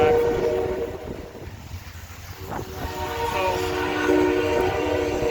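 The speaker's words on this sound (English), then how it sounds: "That's the Amtrak passenger train." An Amtrak passenger train rumbles past in Marceline, Missouri, a steady rolling roar of cars on the rails with a sustained tonal horn blast riding over it.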